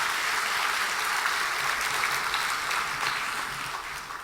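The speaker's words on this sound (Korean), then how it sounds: "우리 감사하는 마음으로 다시 한번 박수로 한번" A church congregation at a Sunday evening service applauds together, a steady wash of clapping at moderate distance that slowly fades toward the end.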